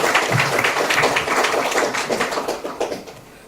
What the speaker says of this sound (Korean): 우리 다 같이 따뜻한 격려 박수 한번 쳐드리시겠습니까